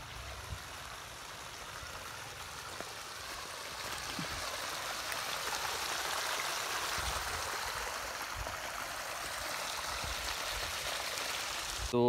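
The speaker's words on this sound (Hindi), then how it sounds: "ये तालाब से पानी जा रहा है" Water rushes and gurgles steadily out of a pond, a continuous close flow with no pauses and no voices.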